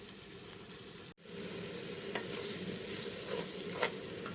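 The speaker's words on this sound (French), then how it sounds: "Vous remuez de temps en temps pour que ça ne colle pas en bas de votre marmite." Shea butter melts in a pot over heat while being stirred now and then, giving a steady, soft crackling sizzle that briefly cuts out before resuming with faint scraping.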